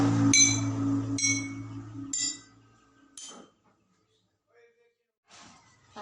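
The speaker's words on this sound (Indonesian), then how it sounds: "Masing-masing akan menghasilkan bunyi yang berbeda-beda ketika dipukul" A spoon strikes water-filled glass bottles of different sizes, giving four separate ringing clinks of differing pitch in slow succession, each decaying before the next, followed by quieter faint taps near the end.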